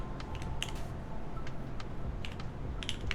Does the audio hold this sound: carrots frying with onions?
no